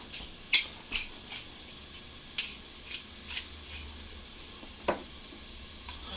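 Ingredients for homemade chicken soup being stirred in a pot, with a few scattered spoon clicks and scrapes over a soft, steady sizzling hiss, quiet and close.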